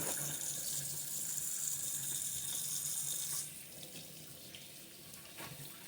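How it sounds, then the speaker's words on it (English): Tap water runs steadily into a sink for hand washing with soap, a continuous close hiss that drops to a softer trickle partway through, with no talking. "you want to wash your hands with a lot of soap and hot water"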